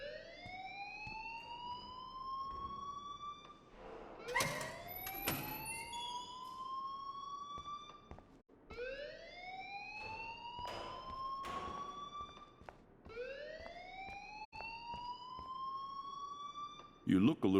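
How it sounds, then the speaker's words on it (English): A rising and falling siren-like alarm wails repeatedly inside the video game Life is Strange, each sweep climbing in pitch, while sharp transient clicks and brief noises cut in between cycles. "please turn off that alarm since that's your job"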